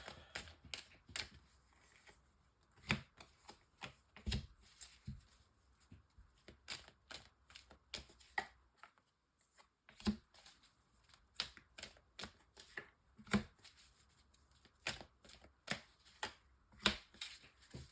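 Amethyst Love tarot cards being shuffled and handled, a series of soft, crisp card slaps and riffles at uneven intervals, close but faint in a quiet room.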